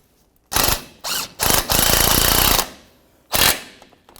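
An 18 mm socket on a ratchet tightens the lower sway bar link on a 2008-2012 Jeep Liberty, giving several loud, close bursts of rapid clicking separated by short pauses.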